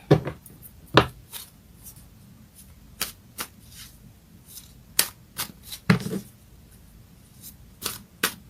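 Astrology cards being shuffled and drawn during a reading, giving sharp, separate riffles and slaps spread across the clip, fairly close with quiet gaps between.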